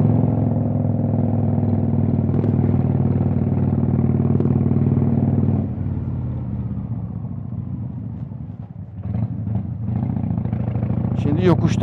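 A chopper motorcycle pulls uphill on a road in Turkey with a close, steady, low engine drone that eases partway through and then builds again. A rider's voice is heard over the engine.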